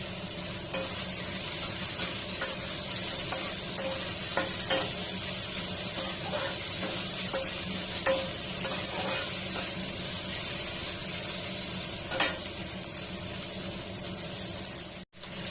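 Finely chopped onion fries in oil with panch phoron spices, a steady close sizzle broken by occasional clicks and scrapes of stirring, ending with an abrupt cut, no speech.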